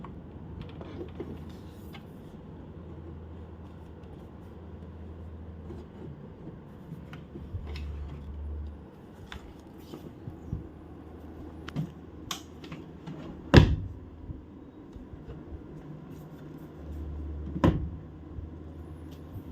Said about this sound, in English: now we're going to fit back the drawer and give it a try.